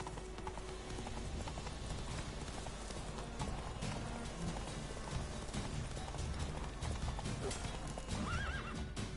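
Hooves of Roach, the horse in The Witcher 3, clip-clop in a steady galloping rhythm throughout, with a whinny and a dense game soundscape around them; no speech.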